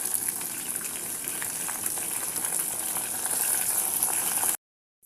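Tomatoes fry in a pan, giving a steady hiss and sizzle that holds even and fairly soft for several seconds and then cuts off abruptly.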